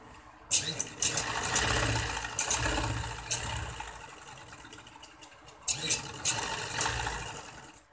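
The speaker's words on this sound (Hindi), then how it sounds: "अब हम इसके ऊपर एक बारीक सी सिलाई लगाएंगे।" A sewing machine stitching a fine seam along a frock's back panel, with short bursts of whirring and clicking separated by pauses. Someone talks quietly between the runs.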